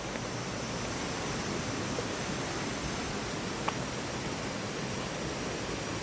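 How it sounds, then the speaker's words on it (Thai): Steady, even rush of falling water from a small waterfall at Khao Yai National Park, a soft continuous hiss with no voices. "เป็นน้ำตกที่ไม่ใหญ่มากครับ"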